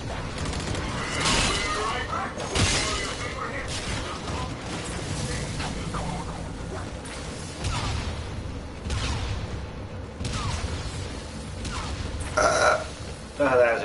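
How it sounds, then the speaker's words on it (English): A loud burp rolls out among bursts of talk and laughter, with other thumps and clatter around it. "good burp"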